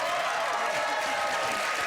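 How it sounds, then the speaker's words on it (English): A brief burst of audience clapping, dense and steady for about two seconds, moderately loud and heard without talk. "Do they clap all the time?"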